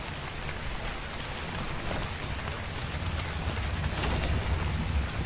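Steady rain falls in ARK Ragnarok, a dense and even hiss of drops on surfaces that holds a constant level throughout with no break and no voices.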